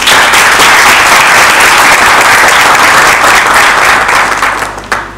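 Loud audience applause at a town hall event welcoming a finance minister: dense, sustained clapping from a crowd, close and strong, tapering off near the end with a few last claps.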